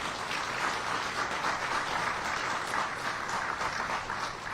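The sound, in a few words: audience applause at press conference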